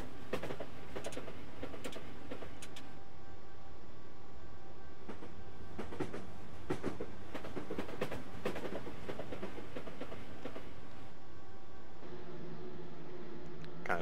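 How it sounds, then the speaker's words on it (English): Trains rolling on the London to Brighton line in Train Simulator 2014, a steady rumble with rhythmic clickety-clack of wheels over rail joints, loud and continuous with no talk. "Quite a few trains on the tracks right here."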